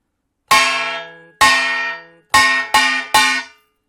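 A kkwaenggwari, a bright metallic Korean gong, rings out five times in the hwimori rhythm, two spaced strikes followed by three quicker ones, each hit ringing and fading.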